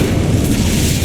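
Incendio fire spell in Hogwarts Legacy, a loud, dense roaring whoosh of flame blasting continuously for about a second.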